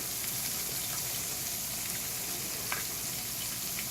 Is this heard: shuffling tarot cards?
no